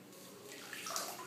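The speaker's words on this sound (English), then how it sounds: "Allow passive dripping of water" Water drips and trickles faintly from a soaked plaster bandage being prepared for a forearm splint, a soft, continuous patter with small splashy drops near the end.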